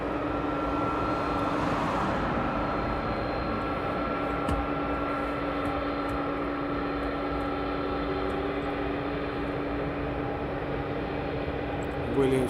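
A jet aircraft taxis at East Midlands Airport, its engines giving a steady distant whine and rumble throughout, with people talking nearby.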